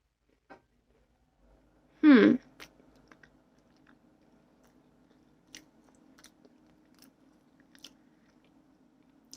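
A single loud close bite into a slice of homemade banana bread with nuts, followed by faint soft chewing and small clicks.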